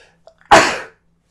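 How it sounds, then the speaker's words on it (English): A single sharp sneeze bursts out close by after a couple of small breathy catches, then quickly fades to silence. "I gotta sneeze."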